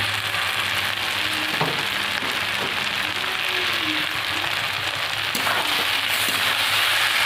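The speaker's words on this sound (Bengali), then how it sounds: "এবার আমি চিংড়ি মাছগুলো দিয়ে দেবো।" Loud, continuous sizzling of prawns frying in a hot pan, with occasional stirring clinks, no voices.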